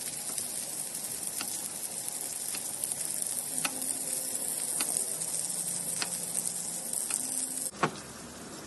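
Salmon fillets sizzle in melted butter in a hot pan, a steady, fairly quiet crackle broken by scattered sharp pops and clicks, with no voices.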